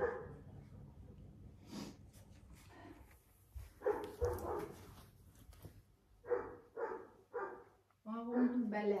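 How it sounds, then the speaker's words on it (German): A dog barks in a home in Turkey while white curtains are being hung, several short barks in scattered bursts, with a person speaking between them. "Warum du bellen?"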